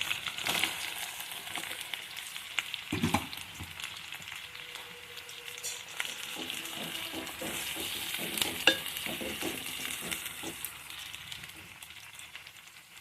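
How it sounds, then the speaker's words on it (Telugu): Chopped onions and green chilies frying in hot oil, a close, continuous crackling sizzle broken by a few sharper clatters of stirring, fairly quiet with no voices. "ఉల్లిపాయ ముక్కలు వేగినాయండి"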